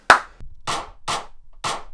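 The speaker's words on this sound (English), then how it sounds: "Basic kick, clap, but I wanted to add the shuffle off the drum and bass" Electronic drum and bass beat with a punchy kick and sharp claps in a shuffled pattern, four crisp hits spaced evenly across a short loop, dry and alone with no vocals.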